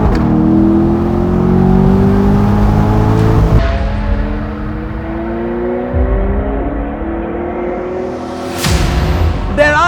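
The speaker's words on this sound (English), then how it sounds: "This is an engine you can chill with, and that's been the beauty of these V8s." A V8 supercar engine revs loud and close, its rumble climbing and falling through several throttle blips with a sharp burst near the end, standing alone without voices.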